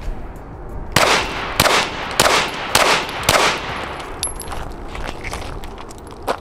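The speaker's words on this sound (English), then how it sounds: "Stoeger STR-9MC, 5 rounds, 5 yards, center mass." Five sharp, loud shots ring out in quick succession from a Stoeger STR-9MC micro-compact pistol fitted with a Burris FastFire C red dot, fired at a target five yards away. Each crack leaves a brief ringing decay.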